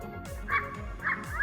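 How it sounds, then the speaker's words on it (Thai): A jackal call from a children's animal game on a phone comes as a few short, yipping dog-like cries, fairly faint and spaced apart. "เสียงหมาจิ้งจอก"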